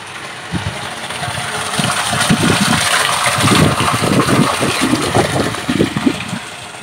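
A borewell motor pump runs, with water gushing and splashing in an uneven, churning rush. The sound is loud and close, and it swells over the course of the clip.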